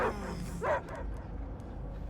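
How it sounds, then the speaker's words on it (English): A dog gives two or three close, loud barks and yips, followed by quieter rumbling background. "I hear only barking."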